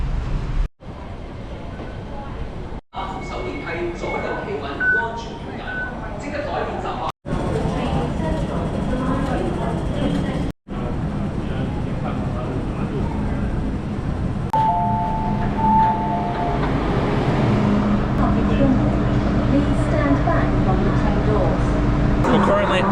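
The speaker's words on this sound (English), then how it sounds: "We're currently on the metro under the Victoria Harbour right now." A metro train runs beneath Victoria Harbour in Hong Kong, giving a steady loud rumble and rattling ride noise with brief dropouts and later a rising tonal whine, while people talk over it.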